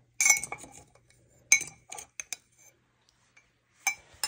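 Fork clinking against dishes in a kitchen, making sharp bright metallic chinks in several close bursts separated by quiet gaps.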